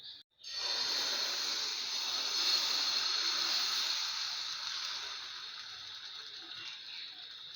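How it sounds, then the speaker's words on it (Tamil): Cucumber and kodo millet dosa batter hits a hot pan with a sudden loud, bright sizzle that starts after a brief click, holds steady, then gradually softens while staying continuous, with no talking. "இப்போ நம்ம தோசையை ஊற்றிடலாம்"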